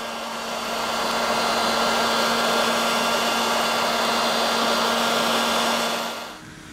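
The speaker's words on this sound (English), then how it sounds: "With the help of the heat gun, we apply 19 Celsius degrees during 4 minutes." A heat gun blows hot air onto the screen of an Apple Watch 3 during a screen replacement, a steady loud fan whoosh with a low hum that holds for several seconds before cutting off.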